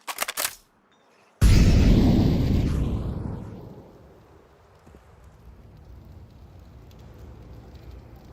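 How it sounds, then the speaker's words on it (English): An incendiary grenade in Counter-Strike 2 lands with a sudden loud burst, then burns as a roaring, crackling whoosh that slowly fades into a low, steady fire hiss. "Incendiary out."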